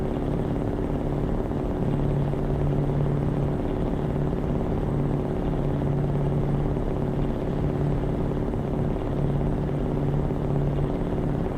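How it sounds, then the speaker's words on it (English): A helicopter in Euro Truck Simulator 2 gives a steady, droning rotor rumble with a pulsing low hum, holding at even loudness for about twelve seconds alongside continuous road and engine noise, with no talking. "Oh, the helicopter wants to race?"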